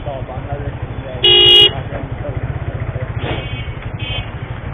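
A group of eight motorcycles rides together along Mithamoin road by the Nikli haor, their engines throbbing steadily throughout while a car horn honks once loudly and briefly, and people talk over the traffic.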